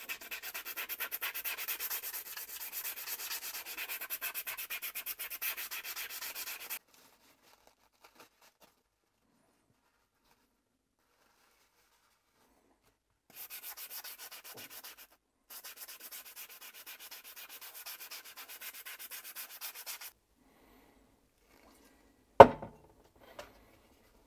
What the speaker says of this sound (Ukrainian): я, наприклад, використовую просто папір і тоді шліфую його